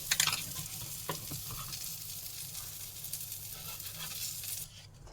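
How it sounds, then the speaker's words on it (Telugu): Eggplant slices fry in a pan with a steady, close crackling sizzle and a few stirring clinks, cutting off abruptly near the end with no speech. "ఇవన్నీ ఫ్రై చేసుకుందాం"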